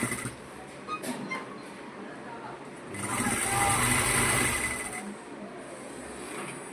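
Sewing machine stitching the folded hem of a kurti, a faint mechanical whir that swells in a longer run of stitching mid-clip, with someone talking quietly in places.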